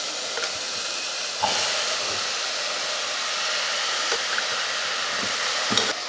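Mutton sautéed in hot oil with masala for mutton kulambu gives off a steady, even sizzling hiss throughout, with a few faint pops and scrapes here and there.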